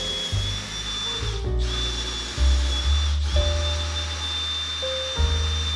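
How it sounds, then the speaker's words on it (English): A power drill with a right angle attachment whirs steadily with a high whine while drilling pocket holes, its motor pitch shifting between short bursts and brief pauses, close and loud. "I had to use a right angle attachment to drill the pocket holes."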